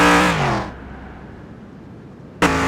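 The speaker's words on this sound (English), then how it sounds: "just redlining it" A late-1960s Shelby GT 350 engine in Car Mechanic Simulator 21 screams at redline, a loud high harmonic whine that drops away into a low idle rumble before the rev surges again at the end.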